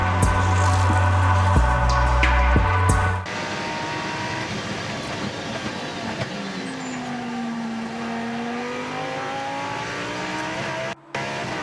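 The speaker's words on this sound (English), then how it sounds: "The sweet sound of a V10 powering a Lamborghini Gallardo GT3 car" Lamborghini Gallardo GT3 race car with a V10 engine at the Bathurst 12 Hours endurance race, its loud, hard-revving engine note rising and falling through the gears as it passes, with no talk over it.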